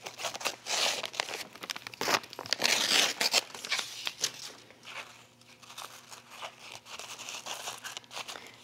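Embroidery stabilizer being torn away from pajama pant fabric, close up, as a continuous papery crinkling and ripping that rises and falls in intensity, with no speech.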